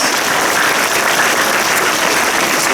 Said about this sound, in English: give her one more round of applause as they sit down